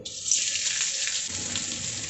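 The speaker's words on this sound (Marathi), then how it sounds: "थोडंसं तेल टाकून घेते. कोबी टाकून घेऊ," A loud, steady hiss and crackle of cabbage frying in hot oil in a wok, bright and continuous, with a slight shift in texture midway.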